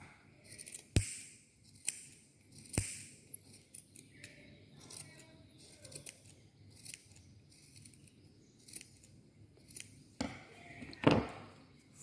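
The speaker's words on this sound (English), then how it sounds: "We have to cut this extra" Scissors snipping paper while making a rakhi craft: quiet, close, irregular cuts and clicks spread across the span, with a few sharper snaps and a rustle of paper near the end.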